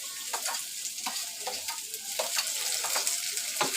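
Onion tossed into dry Bombay duck chutney frying in a pan, a continuous crackling sizzle broken by repeated scraping strokes of a spatula in an uneven rhythm, close and fairly loud, with no talking.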